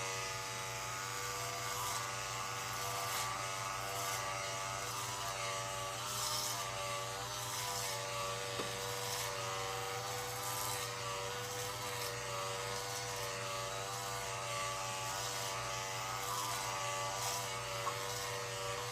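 Electric beard trimmer running continuously as it trims a beard downwards, a steady mid-pitched motor buzz with a low hum, faint and unchanging for the whole stretch.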